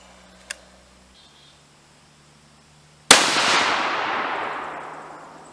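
A single loud, sharp 6.5 Creedmoor rifle shot firing a 142-grain Sierra MatchKing bullet, a sudden crack followed by a long decaying echo, preceded by a faint click and near silence.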